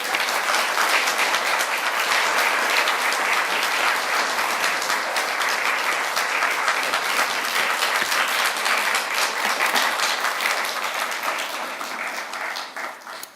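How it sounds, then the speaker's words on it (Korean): Warm audience applause at a church retreat lecture welcoming a guest speaker, a steady, loud, sustained roar of many hands that tapers off near the end. "우리 최종호 선생님 오실 때 뜨거운 박수로 환영하면 좋겠습니다"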